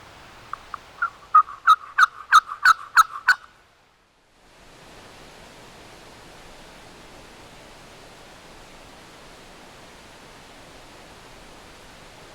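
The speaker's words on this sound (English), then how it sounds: "There's a hen yelping out there." A wild turkey hen yelps in a quick run of about eight sharp, rising calls in Alabama big woods late in the season, fairly near, followed by a quiet stretch of faint ambient hiss.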